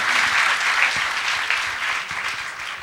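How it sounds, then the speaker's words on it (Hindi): An audience at a teaching camp bursts into applause, a dense wash of clapping that holds steady and loud before gradually thinning out. "ताली बजाए"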